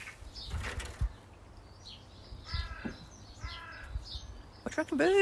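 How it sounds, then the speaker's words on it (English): Wild magpies call in short chattering bursts with wing flapping outdoors, someone talking intermittently, and a louder close call near the end. "Oh, and here come the wild magpies as well."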